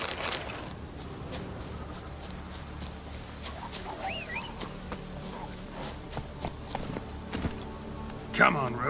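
Roach the horse gallops in The Witcher 3, a quiet, steady clip-clop of hooves running under ambient game noise, with a voice speaking briefly and a louder accent near the end.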